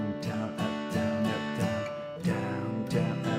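Guitar strummed in a steady down-down-up pattern for a beginner song, ringing chords with evenly spaced strokes, close and alone with no voice over it.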